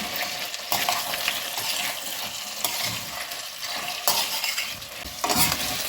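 Pork belly and young kohlrabi fry in a pan for a ragout, giving a loud, continuous hiss and crackle broken by repeated scraping stirs every second or so.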